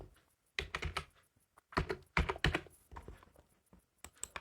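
Typing on a computer keyboard while entering a captcha on a form, with bursts of quick key taps separated by short pauses, close and fairly quiet.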